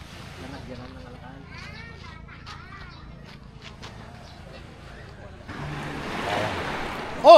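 Morning ocean waves wash onto a beach in a steady, gentle surf that swells louder toward the end, with a person talking casually over the water.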